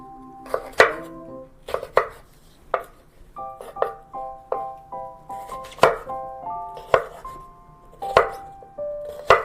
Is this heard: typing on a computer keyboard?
no